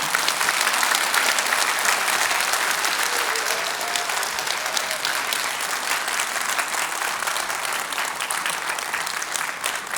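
Sustained audience applause after a university president's lecture on national security and the future of Pyeongtaek, a broad, even wash of many hands clapping that holds steady for ten seconds.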